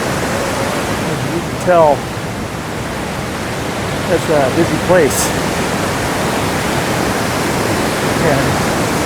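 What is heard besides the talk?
roaring Merced River flowing under Vernal Falls Bridge, Yosemite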